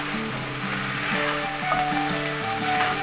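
Flour sizzles as it is stirred and cooked in a hot pan, a continuous close frying hiss with soft scraping from the stirring, no voices over it.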